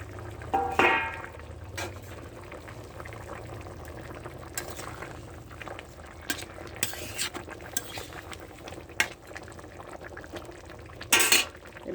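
A pot of silver carp and potol curry simmers with a steady bubbling boil as fried fish pieces and two bay leaves go in, with a few soft clinks and a brief splashy stir near the start and again near the end.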